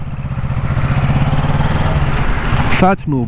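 A 2022 Kawasaki Ninja 650 motorcycle engine runs close and loud in a steady, throbbing idle. It cuts out abruptly near the end, leaving a short clatter.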